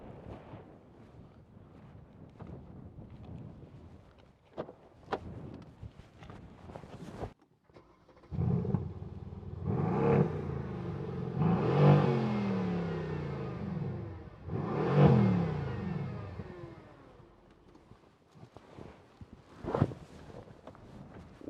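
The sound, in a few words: Mercedes-AMG C63 V8 BiTurbo engine revving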